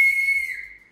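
A single loud, high whistle held steady for about a second, fading slightly toward the end, from a person behind the scenes at a dance show's grand finale.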